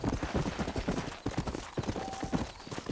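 Horse hooves clip-clopping at a steady walking pace in the Red Dead Redemption western video game, a dense continuous run of soft, close thuds with no talk.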